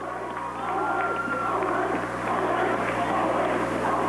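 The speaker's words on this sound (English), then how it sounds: "Let's give them a big round of applause." Crowd noise fills a gymnasium on a boys' basketball senior night as spectators applaud the senior class, a steady broad roar with some cheering that holds at a constant loud level throughout.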